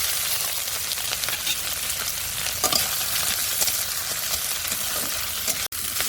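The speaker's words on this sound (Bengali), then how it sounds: "তেলটা গরম হয়ে গেছে, এর মধ্যে দিয়ে দেবো কালো জিরে আর দেবো কয়েকটা চেরা কাঁচা লঙ্কা" Nigella seeds and slit green chillies sizzle and crackle steadily in hot oil, a dense continuous frying hiss with scattered pops and spatters, close up and without talk, ending in a brief sharp tap.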